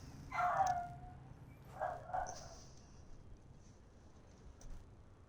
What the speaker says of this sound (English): My little puppy barking in the background.